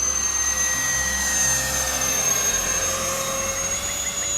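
A Freewing A-10 Warthog 80mm RC jet roars with a continuous ducted-fan whine and steady high-pitched tones, loud and unbroken as it flies inverted at high alpha.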